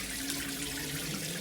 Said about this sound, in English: It's leaking from every joint up top.